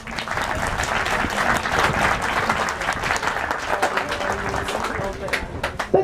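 Audience at a brass band's 85th-anniversary jubilee concert applauds the jubilee celebrants with warm, sustained clapping, dense and even, with crisp individual claps standing out and a few sharper hits at the end.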